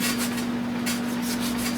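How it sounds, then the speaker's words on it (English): Sanding a fiberglass rear speaker deck for a custom car audio build: a steady, close abrasive rasp with an even, continuous hum throughout and no talking. "gonna sand the bottoms too, even though the speakers sit there, but I want everything sanded and painted"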